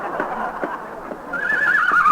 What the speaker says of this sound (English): there's a lunatic in the elevator with a horse